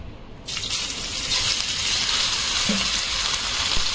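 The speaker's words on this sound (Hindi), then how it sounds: "इसको आप इसके अंदर फ्राई करने के लिए छोड़ दीजिए" Marinated chicken dropped into hot oil in a pan, a sudden loud hiss that settles into steady, continuous sizzling frying close by.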